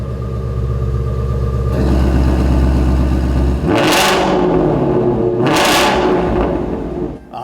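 A Ford Mustang GT350 with an MBRP 3-inch stainless steel resonator-delete exhaust, valves open, idles with a loud low rumble, then rises into two sharp revs that climb and fall back, heard close and alone.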